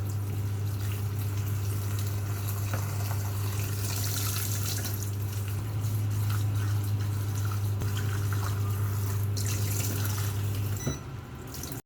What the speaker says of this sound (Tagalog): Ang lahat ng gulay na nilagyan natin ng asin ay hugasan natin ito o bandawan para hindi maalat.